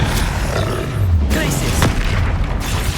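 The Bombarda blasting spell goes off in Hogwarts Legacy combat: loud booming impacts with a few sharp cracks and rumbling roars, close and dense over three seconds.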